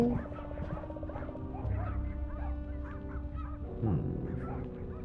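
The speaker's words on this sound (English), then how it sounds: "You hear those like dogs barking in the game?" Distant dogs bark and yelp repeatedly as eerie neighborhood ambience in the PC game Goosebumps (2015), layered over a low droning hum and sustained background tones.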